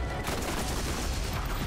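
A rapid burst of overlapping gunfire from Borderlands GOTY fills a short co-op firefight, loud and continuous, with no gaps between the shots.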